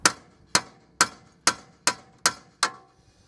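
Seven sharp metallic hammer strikes on a BMW E91 335i (2007) track rod end to release the taper, evenly spaced about half a second apart, close and clear with no talking.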